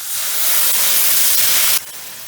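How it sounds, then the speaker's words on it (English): White wine hits a hot pan of softened garlic for shrimp fra diavolo, setting off a loud, dense sizzling hiss that holds steady, then drops sharply to a quieter simmering fizz near the end. "now I'm going to add some white wine right into this pan"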